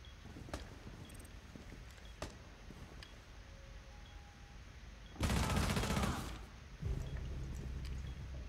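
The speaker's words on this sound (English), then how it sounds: "IQ blasting in bathroom window" Gunfire in Rainbow Six Siege, IQ blasting through a bathroom window: scattered sharp single shots, then a loud dense burst of rapid fire for about a second, followed by another sustained stretch of heavy shooting.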